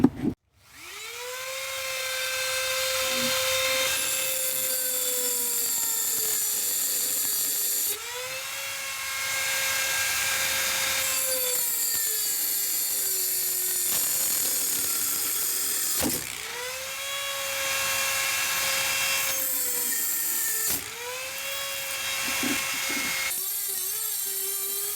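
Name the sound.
Dremel cutting copper pipes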